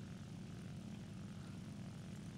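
The engine of an FW 190 A-5 fighter plane in the War Thunder combat flight game drones as a steady, muffled, low propeller rumble, continuous and fairly faint, with no talk.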